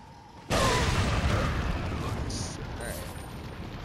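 A hand grenade goes off in Resident Evil 4 HD with a sudden loud burst, then a long rumbling, crackling tail that slowly fades over several seconds.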